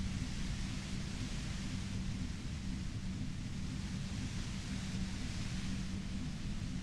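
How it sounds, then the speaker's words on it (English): Dense, steady static hiss from the Disco Elysium video game, constant and enveloping with a low rumbling undertone and no variation in level. "You hear through the white noise."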